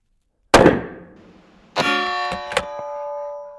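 A single sharp, loud rifle report fades out, then a metallic clang rings on with a long tonal decay, struck once more shortly after; no voices.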